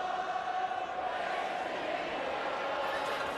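Stadium crowd at a Canadian football game between the Hamilton Tiger-Cats and Calgary Stampeders, a broad sustained roar of disapproval that stays steady and dense from start to finish.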